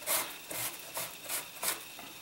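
Sandpaper from sanding a King Ghidorah model build is rubbed clean against denim jeans in about five quiet, rhythmic back-and-forth strokes, close by.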